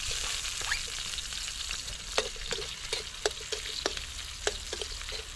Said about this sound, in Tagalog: Gigisa muna natin yung isda natin.